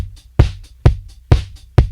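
Four evenly spaced low kick drum thumps with deep boom from a soloed D112 kick microphone, faint cymbal and snare bleed ringing between hits, no talking.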